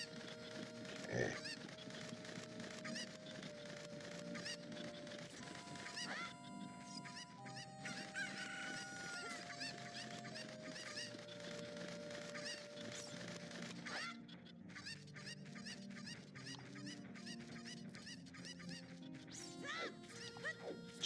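Chickens clucking and honking in the Legend of Zelda: Ocarina of Time video game, over steady retro game music with tonal melody lines throughout.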